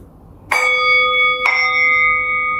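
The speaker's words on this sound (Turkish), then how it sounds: "Singing Bowl olarak geçiyor" Metal singing bowl struck twice about a second apart, each hit ringing out in layered sustained tones that overlap and linger, close and resonant.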